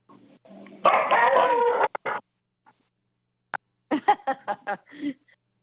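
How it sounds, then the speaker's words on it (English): Dogs bark in several sharp, separate bursts, a longer rough run of barking and then a quick string of short barks, close and loud against otherwise quiet surroundings. "The dogs are acting up."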